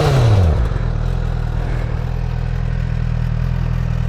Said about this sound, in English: Let's pipe up this stock exhaust.